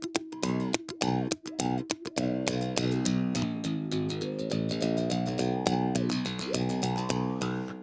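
A mouthbow, a stick strung with a single string, is plucked repeatedly while a finger stops the string to change notes. Twangy, buzzing tones glide and bend in pitch with an irregular rhythm, close and solo.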